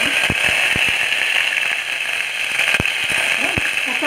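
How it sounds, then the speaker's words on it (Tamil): Mustard seeds splutter and pop in hot oil, with scattered sharp crackles over a steady frying hiss in a home kitchen while making potato kurma. "கடுகு நல்லா பொரிஞ்சாச்சு."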